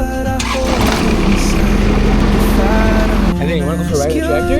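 A tractor engine starting up on a homestead, a loud churning crank catching into a running rumble, mixed with music and voices throughout.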